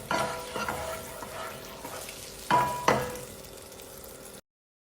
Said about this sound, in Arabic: ذوب الزبدة بالزيت، وبعدين أضيف البصل